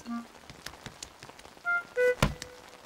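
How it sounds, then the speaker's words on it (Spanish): Light rain falls in a cartoon scene, heard as soft scattered patter with a few small taps and tones, a louder thunk-like hit near the end, no talking. "Hoy está lloviendo un poco."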